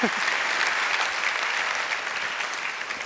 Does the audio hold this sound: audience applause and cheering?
yes